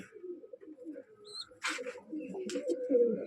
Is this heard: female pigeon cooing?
yes